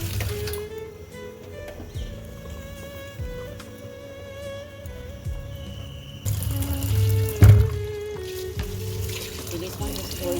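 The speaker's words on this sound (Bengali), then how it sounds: "ইলিশ মাছ বেশি ধোয় না, ধুয়ে নিচ্ছে হালকা করে।" Tap water runs steadily into a sink while hilsa fish are rinsed lightly by hand, with clinks and handling noises, a louder gush partway through, and faint talk in the background.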